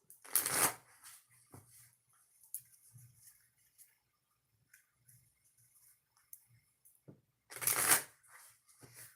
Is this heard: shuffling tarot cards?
yes